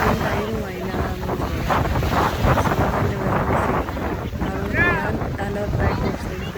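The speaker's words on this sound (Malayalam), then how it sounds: "ഈ കാറ്റ് ഭയങ്കര കാറ്റാണ്" Strong wind by the sea, buffeting the microphone in loud continuous gusts with surf in the background while people talk.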